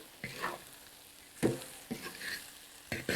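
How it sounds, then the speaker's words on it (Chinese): Fish fries in a wok with short bursts of sizzling and stirring scrapes, close by and otherwise fairly quiet between bursts. "给它煎个1-2分钟啊。"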